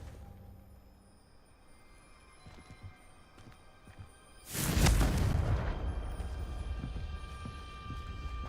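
A Confringo blasting spell in Hogwarts Legacy detonates against a pile of debris blocking a stairwell: one sudden loud boom midway, followed by a rumbling, gradually fading wash of falling rubble after a quiet lead-in.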